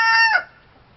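Two roosters crowing together in a chicken pen during the winter molt, a loud, close, harmonic crow that breaks off sharply partway through the clip, leaving quiet background.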